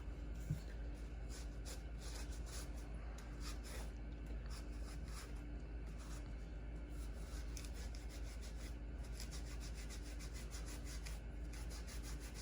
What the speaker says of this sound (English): I'm gonna take some alcohol, I'm gonna clean this up one more time.